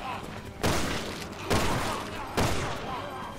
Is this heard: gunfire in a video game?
yes